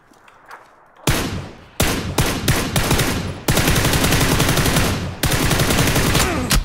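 Loud, sustained automatic gunfire from the PUBG battle royale video game, with rapid bursts and continuous rattling volleys that keep up almost without pause after a brief quieter opening.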